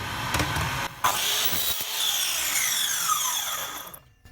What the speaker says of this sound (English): Let's just get these cut to length on the miter saw.